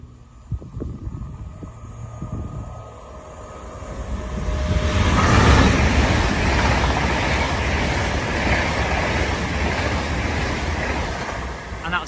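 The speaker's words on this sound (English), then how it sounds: "Passing through now is a Great Western Railway service from London Paddington to Penzance." A Great Western Railway intercity train on the London Paddington to Penzance service passes through Kintbury station, building from a quiet approach into a loud, sustained rush of wheels and air that holds steady to the end.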